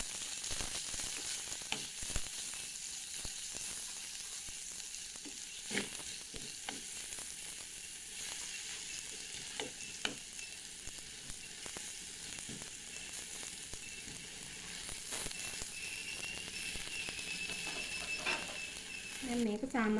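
Cinnamon bark and spices frying in oil for a mango curry, a soft continuous sizzle with intermittent spoon stirring clicks against the pan, fairly quiet and steady.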